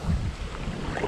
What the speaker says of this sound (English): So the wind is brutal.